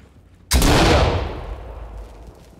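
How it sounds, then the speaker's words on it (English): A flashbang grenade detonates in the tactical shooter Ready Or Not: one sudden, loud, close blast after near silence, its bright crack fading into a long, hissing ringing tail over about two seconds, with no talk. "Open with a flashbang."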